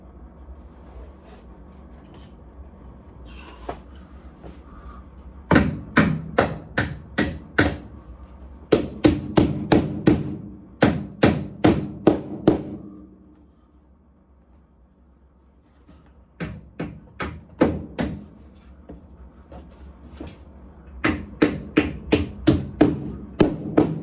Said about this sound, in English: Now I'm going to hammer up these tabs.